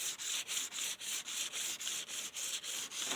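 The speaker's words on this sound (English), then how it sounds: "it looks like it's polishing the ends of the frets as well." A machine polishes the fret ends of a guitar, giving fast, evenly spaced rubbing strokes, about three or four per second, that sound close, bright and scratchy with no voices.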